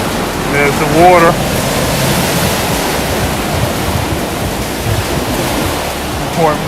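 Rough sea beside the pier at Clacton at night, a steady roaring wash of surf with no letup, close and loud, and a brief voice sounding faintly near the start and end.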